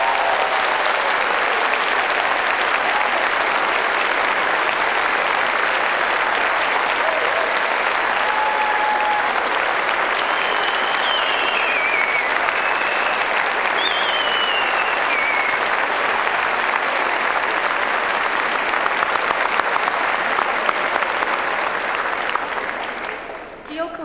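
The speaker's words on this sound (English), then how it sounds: "giving them a warm and enthusiastic round of applause" Graduates at a Cardiff University graduation ceremony give sustained, dense applause to their families and friends, a steady wash of many hands filling the hall for over twenty seconds before tapering at the end.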